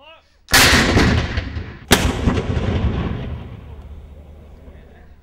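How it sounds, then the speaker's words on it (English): Historic artillery gun firing at Tilbury on the riverside, two loud booming blasts a second or so apart, each followed by a long rolling echo that slowly fades. "Beware the gun firing."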